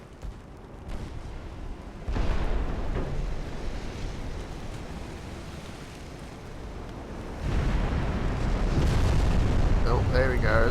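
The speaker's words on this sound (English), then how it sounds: "Now our tiny little 2-inch guns are firing on him too" Small 2-inch naval guns fire in the warship game Ultimate Admiral: Dreadnoughts, giving deep, rumbling booms that swell abruptly twice and then sustain as a heavy, roaring barrage.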